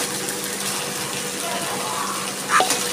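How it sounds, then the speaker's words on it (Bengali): Water being poured into a cooking pan holding seasoned bhola fish for a red-chilli jhal curry, a steady close gush with a brief louder splash near the end. "এবার আমি দিয়ে দিচ্ছি জল।"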